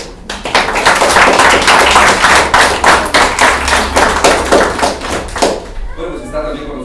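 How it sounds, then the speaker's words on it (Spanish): Applause welcoming a professor at a reading club event in Comitán, heard as a burst of fairly loud, rhythmic clapping from a smaller crowd that stops abruptly as a voice begins speaking. "Un fuerte aplauso, por favor."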